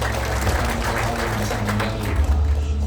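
An audience at a church revival service in Malang applauds, a continuous mass of clapping mixed with crowd noise and low rumble, sustained and fairly loud.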